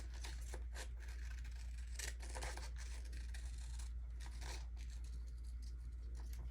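Scissors trim paper for a junk journal, giving quiet, close, repeated snips mixed with light paper rustling and no talking.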